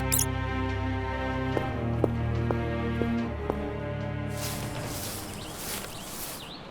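Squeaky cartoon mouse effect for a children's fairy tale, a few short high squeaks and patters over soft music, then a hissy scurrying burst toward the end.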